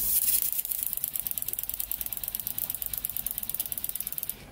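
Rapid, even clicking pulses from a BMW E46 fuel injector being cycled on a cleaning bench, a steady ticking run lasting several seconds with a faint hiss beneath, close and alone.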